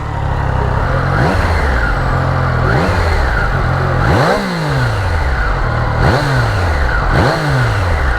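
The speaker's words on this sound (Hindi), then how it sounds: "इसका थोड़ा आपको एग्जॉस्ट नोट हम सुनाते हैं" A Triumph Daytona 660 motorcycle engine revving repeatedly, rising and falling in four or five sharp bursts over a steady idle, loud and close with no talking.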